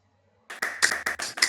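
A few people clap sparsely for a speaker introduced at an online Won Buddhist service, about five or six distinct claps after a short silence, close and somewhat hollow, with no talk.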